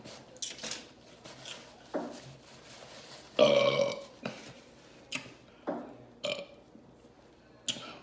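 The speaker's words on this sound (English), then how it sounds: "Big burps in the house." A loud burp after drinking Coca-Cola Orange Vanilla soda rises once near the middle, close to the mic, amid scattered clicks, taps and small handling noises.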